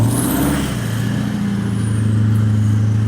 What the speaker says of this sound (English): a twin 4-inch into single 3-inch exhaust running through a single center muffler